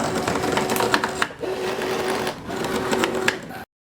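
An automated fabric cutting machine slices through fabric for a face mask with a steady, loud mechanical whir and fine rapid ticking, briefly dipping twice before stopping abruptly.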